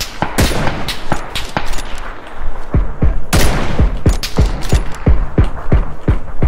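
Gunfire in the video game PUBG: a loud, close, steady string of sharp individual shots fired in quick succession, with a couple of heavier blasts, and no talking over them.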